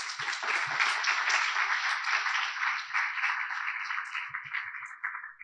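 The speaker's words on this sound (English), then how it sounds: "round of applause for the panelists" Audience applause for the panelists at an IEEE Jamaica event, a steady, dense wash of many hands clapping close by that holds for several seconds before thinning slightly at the end.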